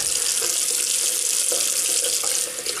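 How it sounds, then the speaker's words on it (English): Tap water runs steadily into a bathroom sink while a safety razor is rinsed under it, a close, continuous hiss with no pauses. "Always rinse the razor under the tap."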